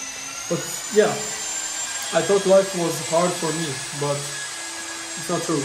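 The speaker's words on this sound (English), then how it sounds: "you guys can hear the drilling right now" A high, steady whine of drilling at a home renovation site runs continuously under someone talking, fairly quiet and in the background.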